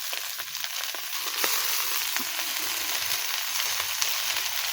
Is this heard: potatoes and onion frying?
yes